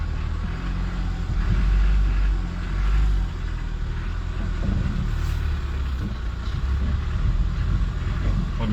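A car passes on a snowy mountain road. Its engine rumbles low and swells as it comes near, then the loudness dips and rises again while the vehicle goes past in steady road noise.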